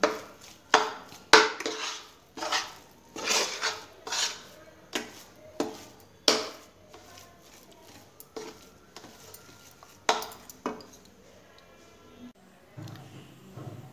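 A spoon scrapes and clanks against a kadai as pea filling for kachori is stirred and cooked, giving a series of close, irregular metallic knocks and scrapes that fade to quieter clatter.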